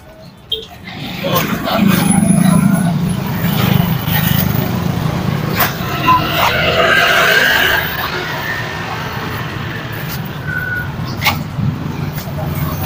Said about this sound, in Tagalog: Kita nyo ba yung mga dumadaan? Motor, tricycle.